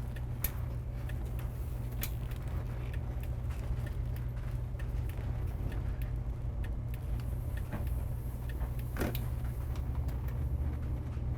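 A 2000 Van Hool coach bus rolls down the road, a steady low engine drone and road rumble filling the interior, with faint ticks and rattles scattered over the constant hum.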